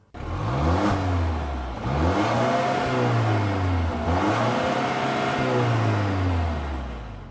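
Volvo S60 T5 engine revving hard through several rising pulls as the car accelerates, each climb in pitch followed by a brief dip at the shift; loud and close, with no talking.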